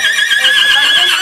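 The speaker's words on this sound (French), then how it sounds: "C'est un cheval de trait, ça, non? Oui, un comtois." A Comtois draft horse gives a close, loud whinny, a single high wavering neigh lasting over a second, with faint hoof sounds and voices in the background.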